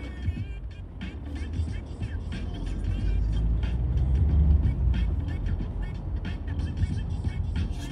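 Simulated bus driving in a driving simulator game, a steady low engine rumble and road noise that swells slightly mid-way and holds, with faint higher clicks scattered over it.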